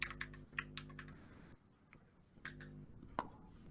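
Keys clatter on a computer keyboard in short, quick bursts of close clicks with pauses between them, over a faint steady hum.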